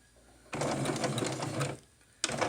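A sewing machine stitching a pair of pants runs in a steady whirring burst for about a second, pauses briefly, then starts again, loud and close.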